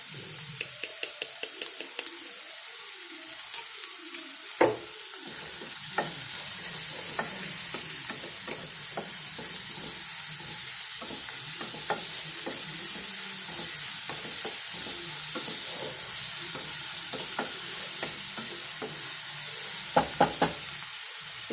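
Chopped coconut and onion fry in a pan, with a soft, steady sizzle and repeated scraping and tapping of a spoon stirring through it.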